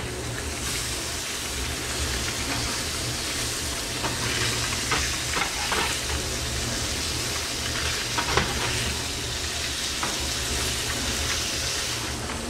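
Flounder fillets fry in a hot pan with a steady, dense sizzle and crackle, punctuated by occasional sharp pops, close and continuous with no talking.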